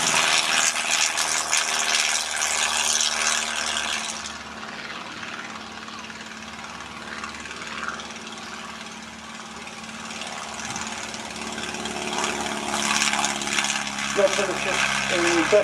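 Klemm 35 vintage monoplane at an air show, its engine droning steadily throughout with broad airy noise, louder at the start and end, fading somewhat in the middle as it passes.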